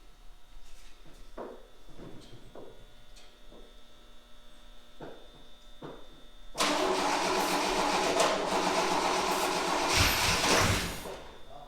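A burnt 1965 Rambler 770 Convertible that has sat idle cranks over with a few intermittent clicks under a steady electrical hum, then its engine catches and roars to a loud, rough, close-up run.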